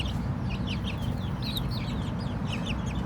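A Burmese game chicken clucks in quick, repeated bursts, fairly close, over a steady background rumble of a farmyard.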